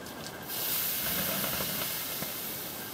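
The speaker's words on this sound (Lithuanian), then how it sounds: "Ant akmenų vanduo spraksi." Water thrown onto hot stones of a newly built masonry sauna stove gives a loud, sustained steam hiss and crackle that surges after a brief softer start and then slowly eases off.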